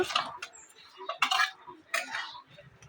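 Pointed gourd pieces are stirred into boiling milk, with a metal spoon clinking and scraping against the pot in three distinct bursts and quieter bubbling between them.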